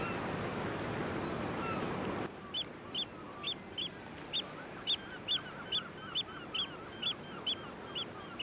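Oystercatchers call on a rocky coast in winter, a series of sharp, evenly spaced piping notes over a faint background of surf.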